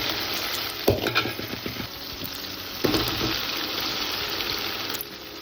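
Egg-marinated chicken pieces hit hot oil with onion, chilli and tomato, bursting into a loud sizzle with sharp clattering stirs, then settling into continuous crackling frying close by.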